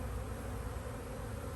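Honey bees fanning at a wide open hive entrance in a bee yard, a steady, dense, continuous buzz with no pauses, fairly close and even in level throughout.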